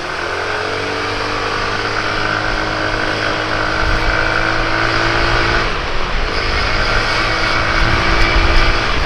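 A Yamaha Mio Smile scooter at full throttle, a loud, close, continuous engine drone with steady rising whine and road rush, swelling slightly as it pulls harder, with no talking.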